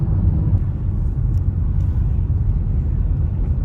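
Low, steady rumble of road traffic near Milford Sound, New Zealand, after light rain, with a continuous near-ish vehicle drone and no distinct pass-bys.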